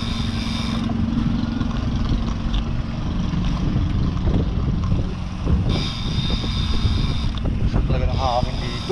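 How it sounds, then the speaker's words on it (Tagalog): Steady wind buffets the microphone outdoors on a boardwalk in Valenzuela City, with a constant rumbling roar, while a motor hums in the background. "Talaga ng hangin dito. Ang ganda ng hangin."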